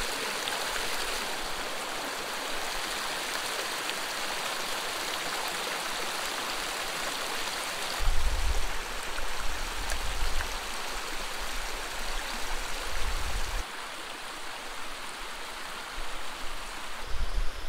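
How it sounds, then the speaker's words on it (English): A small, clear wild trout stream flows with a steady, close rush of water that runs unbroken throughout, with no talk and slight swells in loudness partway through. "fishing little streams like this with super clear water"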